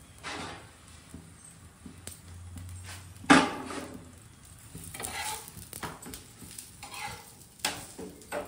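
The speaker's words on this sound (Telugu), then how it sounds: "కొంచెం నేను నూనె వేసుకొని కాల్చుకోవాలి" Churma roti roasting in oil in a pan gives a quiet sizzle with scattered scrapes, taps and one sharp clatter from a utensil, close and unhurried, with no talk.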